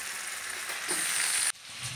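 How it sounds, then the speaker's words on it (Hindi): Cumin seeds tempered in hot oil for a tadka for potato bhurji sizzle steadily in a pan, a bright close frying hiss that cuts off abruptly near the end, with no voices. "ये सादा जीरे का तड़का लगाया मैंने इसमें"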